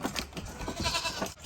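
Farm goats bleat softly in short, wavering calls that repeat irregularly at a distance over faint background noise.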